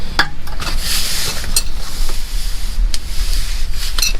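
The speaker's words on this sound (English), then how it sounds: "We're actually gonna spray some with some electronic cleaner first" Electronic cleaner sprayed from an aerosol can onto a connector while replacing an O2 sensor, a close hissing spray in short bursts with rubbing and handling noises between them.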